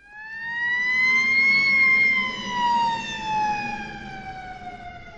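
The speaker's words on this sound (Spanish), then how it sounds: "Por ejemplo, una sirena." A siren wails alone, its pitch rising and then sliding slowly down in long sweeping tones, loud and steady with no talking.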